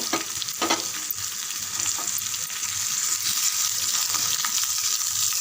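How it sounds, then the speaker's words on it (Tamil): Small pieces of bottle gourd, some with skin on, sauté in a hot pan with a steady bright sizzle and frying hiss, broken by a few soft stirring scrapes near the start. "இது நல்லா வதங்கட்டும்."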